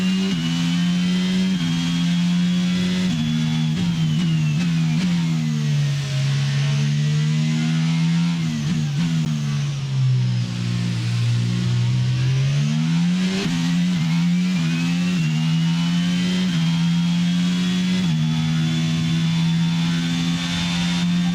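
Ferrari and Alfa Romeo Formula 1 cars battle at Circuit Paul Ricard in the video game F1 22, their loud, continuous engine whine rising and falling steadily as they accelerate and lift through corners, with no voices.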